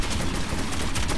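Rapid, continuous gunfire from a wonky gun in Metro 2033 Redux on Ranger Hardcore difficulty, dense repeated shots with no pause across the whole burst, loud and close.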